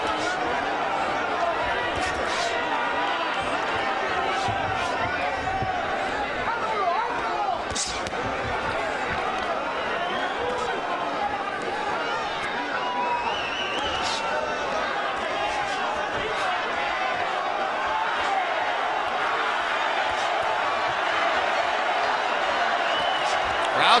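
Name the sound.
boxing crowd cheering during Canelo Alvarez vs Alfonso Gomez fight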